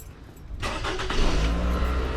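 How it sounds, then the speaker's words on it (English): A 2012 Toyota RAV4 engine cranks and catches, then settles into a steady idle with a low rumble; close and fairly loud, no talking. "So I'm going to start up the engine,"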